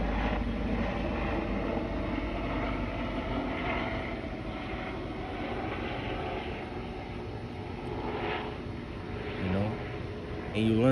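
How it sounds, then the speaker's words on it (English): An airplane passes overhead, heard as a steady, broad roaring rumble that holds for the whole stretch and swells slightly near the end, with some wind buffeting and no one talking. "Salakia, let's wait for this plane to go over"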